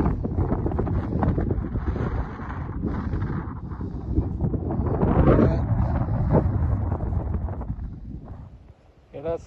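Heavy wind buffets the microphone in a constant rumbling roar, with people talking underneath throughout.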